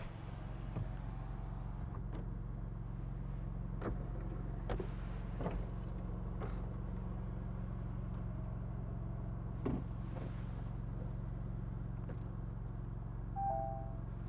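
Maserati MC20 Cielo retractable roof opening: a soft mechanical whir with scattered clicks and clunks over the steady low rumble of the idling car, closing with a brief whine near the end.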